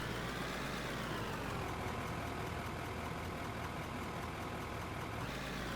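A truck engine idles in the mining video game Out of Ore: a steady, close mechanical drone with a slight pitch shift at the start and a small change near the end, with no talk over it.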